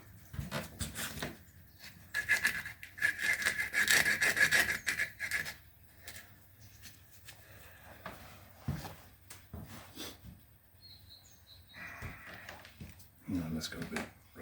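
Coarse 80 or 60 grit sandpaper rasps against a handmade wooden beard comb, working between the teeth in repeated rubbing strokes at close range, with someone talking intermittently over the sound.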